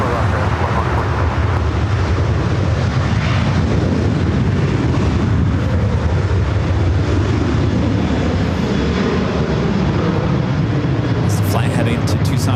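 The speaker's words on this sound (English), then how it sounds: "Flight heading to Tucson, Arizona, rolling down to 24 left." Airliner bound for Tucson rolling for takeoff on runway 24 Left at LAX, a loud, steady broadband jet roar that swells and holds throughout without letup.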